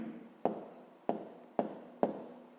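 A pen writes an answer by hand during a fifth-grade maths exercise on fractions. Four quick, close, distinct strokes tap and scratch on paper in a quiet room.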